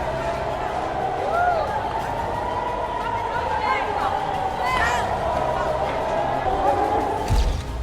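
Crowd commotion as people rush toward bomb shelters after air-raid sirens in Tel Aviv during missile attacks, a steady dense babble of many voices and movement throughout, with a brief thump near the end.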